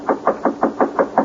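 Seven evenly spaced knocks on a wooden door ring out in steady rhythm, a radio drama sound effect from a 1947 western broadcast, close and clear with no voices over them.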